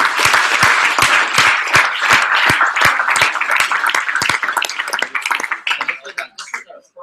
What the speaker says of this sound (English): Can we give a big round of applause for it?